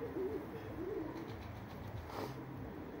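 Pigeons coo softly at close range, a few low rolling calls over a faint background hum.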